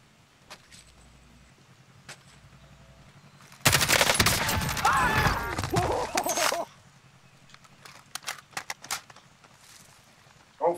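Gunfire in Call of Duty Warzone, a sudden loud burst of rapid automatic shots lasting about three seconds, followed by scattered single cracks amid quieter game sounds.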